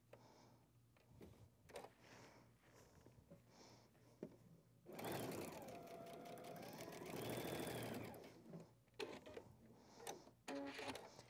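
A sewing machine stitching string-pieced quilt fabric in a sewing room, running in a steady fast whir for about three seconds mid-clip, with quieter clicks, taps and handling of fabric before and after, close and soft.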